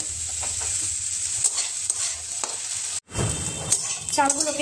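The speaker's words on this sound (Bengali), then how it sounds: "গোবিন্দভোগ চালগুলোকে এভাবে ভেজে নিয়েছি" Soaked Gobindobhog rice frying in a pan, a steady near sizzle with scraping stirs, a brief cut in the middle, then more clattering stirs.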